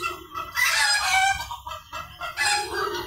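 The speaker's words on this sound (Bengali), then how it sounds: "এখানে আছে সব মুরগির বাচ্চা।" Chickens and chicks in a pen, with a rooster crowing and hens clucking loudly and close by, in bursts with brief pauses between calls.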